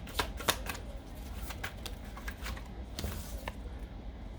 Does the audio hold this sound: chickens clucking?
no